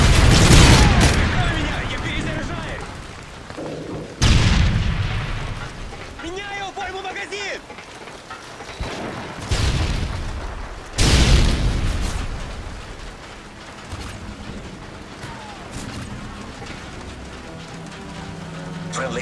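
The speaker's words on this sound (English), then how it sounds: "Predator missile in." Predator missile strikes in Modern Warfare 3 on the Offshore map: several heavy, booming explosions land in sequence, each with a long rumbling tail, amid game noise and brief voices.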